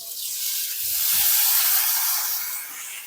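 Oil sizzles on a hot tava before red pumpkin thalipeeth goes on. The hiss is close, steady and bright, swelling slightly in the middle, with no talking.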